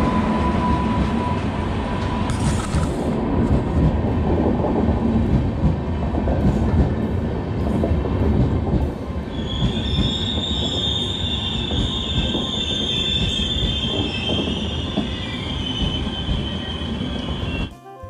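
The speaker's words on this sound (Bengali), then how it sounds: "ওই দেখো, ট্রেন আসছে।" A train passes a level crossing by a bridge, loud and close. Heavy rumbling wheels and wagon clatter carry on throughout, and a high metallic wheel squeal rises over the second half before the sound drops away at the end.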